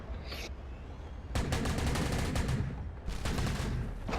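Gunfire in the mech combat game MWLL: a burst of rapid, rattling shots, a brief pause, then a second sustained volley ending in a headshot kill, loud and close with no talk.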